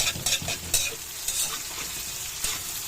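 Tofu sizzles steadily as it fries in a pan for lumpiang toge, with a few sharper crackles and stirring scrapes over a continuous close hiss.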